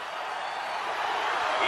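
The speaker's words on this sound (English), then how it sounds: "you can feel the thunder in the crowd as they await the start of this game" Steady roar of a stadium crowd in the NCAA Football 14 video game, a broad continuous wash of cheering that swells slightly toward the end, with no distinct voices standing out.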